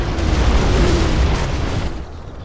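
Bomb explosions in the video game Pro Gen Mod make a loud, sustained, rumbling blast that fills the whole moment before fading out near the end, with no voices over it.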